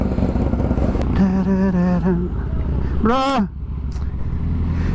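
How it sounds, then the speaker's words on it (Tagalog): A motorcycle engine warming up holds a low, steady idle rumble while someone speaks briefly over it. "So painit lang tayo ng bike."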